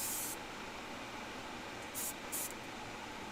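An airbrush sprays Timbertech acrylic hobby paint in a soft, steady hiss, close by, broken by a few brief louder bursts of airflow.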